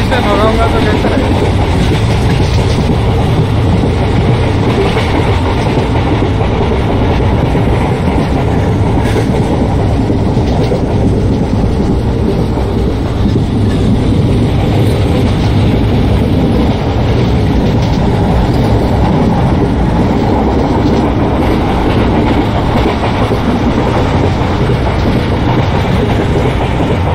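A simulated Indian intercity express train with ICF coaches running fast in Microsoft Train Simulator, producing a loud continuous rumble with rhythmic clickety-clack of wheels over rail joints, steady throughout.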